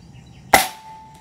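One sharp, close crack from an NB-007 air rifle firing a JSB 18.13 gr pellet, with a short ringing tail fading over about half a second in an otherwise quiet setting.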